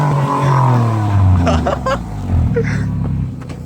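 A car engine revs hard through its exhaust, a loud rising-and-falling roar with harmonic sweeps that stays close and fills the whole stretch, drowning out any background.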